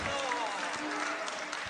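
Church congregation applauding during a Spanish-language sermon, a steady dense wash of clapping with a voice speaking over it throughout.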